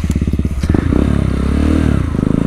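A Honda Grom motorcycle pulls away, its small single-cylinder engine thumping with a rapid pulsing rhythm that rises in pitch as it accelerates, loud and close.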